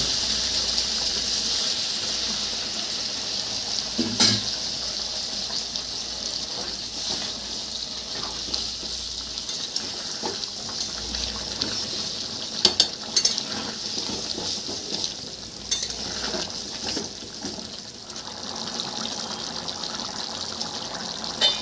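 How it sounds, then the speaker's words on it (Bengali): Hot water poured into a pan of frying jackfruit and pea curry, a steady close hiss and bubbling sizzle with brief clinks of a utensil against the pan. "গরম জল দিয়ে দিলাম এটাকে।"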